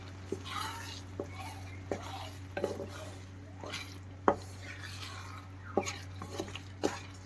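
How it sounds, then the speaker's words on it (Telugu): Satyanarayana prasadam is mixed in a pot: scattered spoon taps and scrapes against the metal at irregular intervals over a low steady hum, fairly quiet and close, with faint murmuring. "ఇప్పుడు చూడండి ఎలా కనిపిస్తుందో ఒకసారి దీనంతా కలిపేసుకుందాం"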